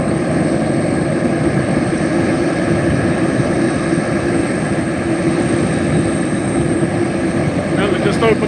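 An MD-11 jet airliner takes off from Reno airport, its engines a loud, continuous roar that holds steady throughout, heard from nearby under wind noise.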